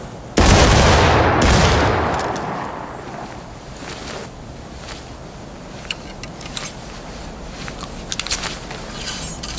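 A massed rifle volley fired in War of Rights, a Civil War game: one sharp loud crack at the start, then a long rolling echo that fades over a couple of seconds, followed by scattered distant shots and faint background activity.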